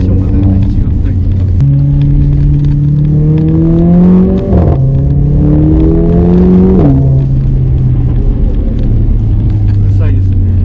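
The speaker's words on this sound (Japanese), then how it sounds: "勝手にマフラーがこうバラバラ言うんですね" A Mercedes-AMG A45's engine revs up and down near the listener, its exhaust giving a loud, burbling, crackling rumble that rises in pitch, drops, then settles.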